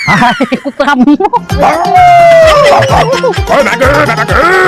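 Several dogs bark and yip loudly at close range in quick, overlapping bursts, with some whining and people talking among them.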